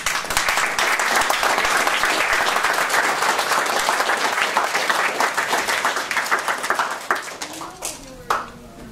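Lively audience applause at a brony fan convention panel, dense clapping and some cheering that runs strong for several seconds, then thins out to scattered claps and fades near the end.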